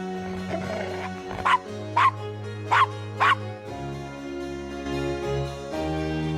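A dog in the adventure game Gabriel Knight: Sins of the Fathers gives four short, evenly spaced barks over a steady synthesized music background.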